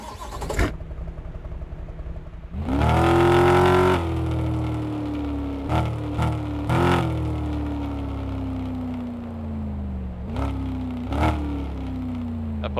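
Engine of a car in the Car Mechanic Simulator game with exhaust trouble: it cranks, starts and revs hard, then settles into a rough drone, broken by several short sharp blips of throttle.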